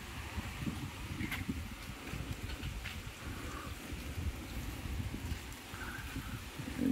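Typhoon wind blows steadily outside a house in Daet, a dense whooshing roar with occasional rattling and knocks, continuous and fairly close.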